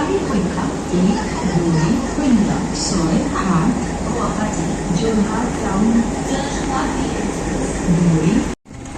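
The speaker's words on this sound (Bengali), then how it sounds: "এদিকে ট্রেন চলে যাচ্ছে" A train rolls past a busy railway station as travellers board a horse-drawn tomtom with their luggage and porters. Its steady rumbling roar fills the whole span, with muffled crowd voices underneath, before cutting off abruptly near the end.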